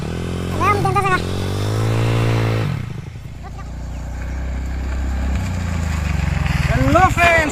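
A TVS Ntorq scooter engine revving and labouring on rough off-road ground, a loud, close droning hum that dips and rises, with voices talking over it at the start and end.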